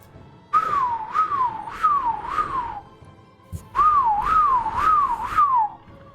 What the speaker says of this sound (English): Norin, you hear a familiar whistle.